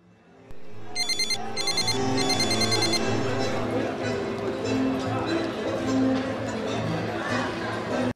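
A telephone rings in repeated bursts near the start, loud over a busy background with music and people talking.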